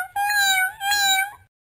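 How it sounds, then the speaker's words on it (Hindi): A cat meows twice in close succession, each call clear, near and rising then falling, with nothing else heard and no talking. "म्याऊं म्याऊं वो करती है"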